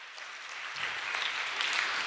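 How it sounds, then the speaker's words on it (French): A church congregation claps loudly, a dense, even burst of many hands that swells slightly and holds for a couple of seconds with no voices over it. "on acclame très fort"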